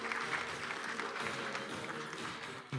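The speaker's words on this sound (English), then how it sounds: "Round of applause for Jimmy's Insurance Agency Limited." A room of attendees at an insurance sales conference awards session applauds a runner-up company, a steady, moderately distant wash of clapping with faint voices underneath that stops abruptly at the end.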